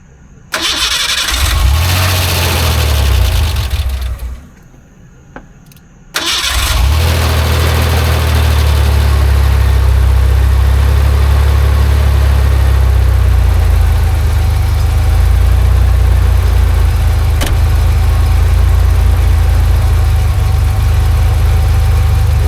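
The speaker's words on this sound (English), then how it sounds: "That's idling a little rough" A 1988 Ford Bronco II with a 2.9 V6 cranks and catches after a brief quiet gap, then settles into a loud, steady, slightly uneven rough idle close by that continues for the rest of the span.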